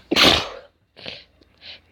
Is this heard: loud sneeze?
yes